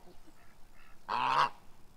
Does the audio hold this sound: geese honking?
yes